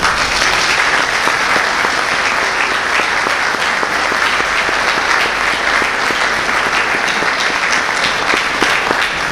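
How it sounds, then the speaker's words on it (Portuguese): An audience at a ceremony at the Museu de Aveiro, marking the handover of a painting of Princess Saint Joana, applauds in loud, sustained, even clapping that runs throughout. "Para ele, eu peço uma salva de palmas."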